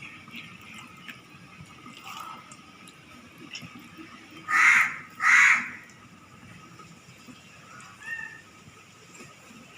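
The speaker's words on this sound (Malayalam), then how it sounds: "കാക്കയൊക്കെ ഒന്ന് ഇരുന്ന് വിളിക്കുന്നുണ്ട്" A few crows caw outdoors during cooking, two loud harsh calls close together near the middle, then a fainter call later, over quiet background noise.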